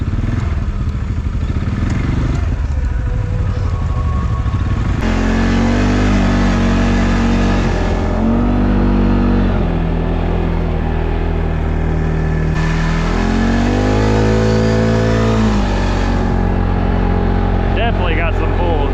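A 2022 CFORCE 500 ATV engine revs and pulls in four-wheel drive, loud and close, rising and falling in several surging bursts with clattering drivetrain noise.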